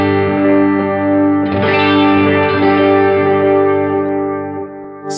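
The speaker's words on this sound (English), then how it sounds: "It's designed to make your 6-string guitar sound like a 12-string guitar." A six-string guitar played through a Line 6 Helix 12-string pitch effect rings out in full, shimmering strummed chords with chorus and echo, loud and close, sustained for about five seconds with no talking.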